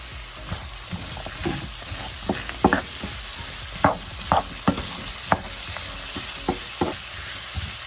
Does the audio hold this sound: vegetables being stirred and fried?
yes